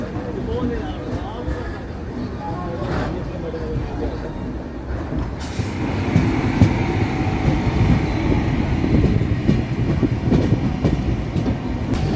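The North East Express rolls along with a steady low rumble and rhythmic clatter from inside a general coach, loud and continuous, while someone talks over it.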